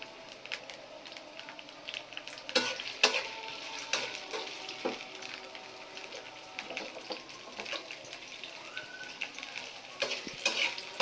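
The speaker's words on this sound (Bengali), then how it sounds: "এখন পেঁয়াজটা ভেজে শাকে দিয়ে দেওয়া হবে।" Onions sizzle steadily in hot oil in a pan for a Bengali greens dish, with a continuous crackling fry, occasional louder stirring scrapes and clinks, and no talking.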